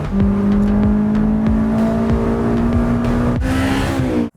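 A Honda S2000 engine revs hard and close, its tone climbing steadily through a gear before a brief shift break and another rising pull, then cutting off abruptly.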